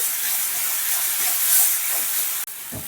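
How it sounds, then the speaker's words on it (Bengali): Ground coriander and cumin spice paste frying in a pan, giving a steady, close hissing sizzle that holds throughout, with a brief break and a soft clatter near the end. "একসঙ্গে আমি ধনে আর জিরে গুঁড়ো করে রেখেছি দিয়ে দিচ্ছি মশলাটা একটু হালকা করে কষিয়ে নিচ্ছি"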